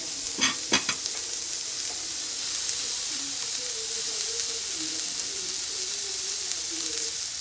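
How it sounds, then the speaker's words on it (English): Onions in unsalted butter sweating and caramelizing in a pan, a constant bright sizzle with a few sharp stirring clatters near the start, then a steady hiss with faint background hum. "We want to just let that sit, sweat, and caramelize."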